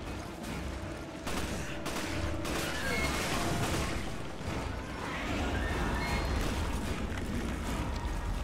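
Resident Evil 5 video game gunfire: a dense, continuous clatter of shots and impacts with crashes mixed in, fairly loud and sustained throughout.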